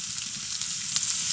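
Water added to goat mutton frying in a pan sets off a close, steady, hissing sizzle that carries on without a break and with no voices.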